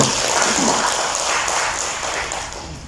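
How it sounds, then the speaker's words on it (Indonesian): Applause for Ahmad Doli Kurnia Tanjung at a FORKONAS gathering, a moderately loud wash of clapping from the audience that tapers slightly toward the end, with some voices mixed in. "Tepuk tangan untuk beliau"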